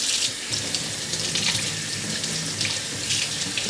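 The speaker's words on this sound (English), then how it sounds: "Bring it over to the sink." Water runs steadily from a sink tap while parts are rinsed clean of solder residue, a continuous close splashing hiss with small fluctuations as the stream strikes the items and basin.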